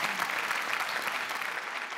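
An audience at a Marathi comedy show applauding, a dense, steady burst of clapping from many hands filling the room for a couple of seconds.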